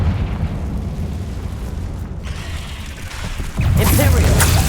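A Confringo blasting spell from the Hogwarts Legacy video game goes off as a broad, rumbling explosion, its burst swelling louder near the end of the clip over steady low game ambience.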